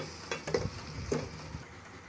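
A few quick stirring scrapes move chicken and radish bhujiya around a pan, two or three short clatters over a faint low sizzle, close and fairly quiet.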